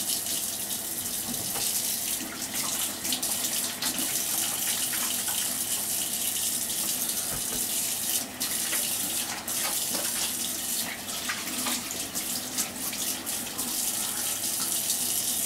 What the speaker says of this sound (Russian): Сейчас мы руки помоем.